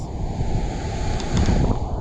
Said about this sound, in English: Right here, where the ocean meets the earth